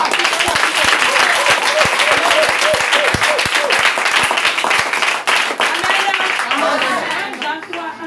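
A church congregation bursts into sustained, dense applause and clapping at a worship service, loud and close, with some hand claps standing out sharply before the sound thins toward the end.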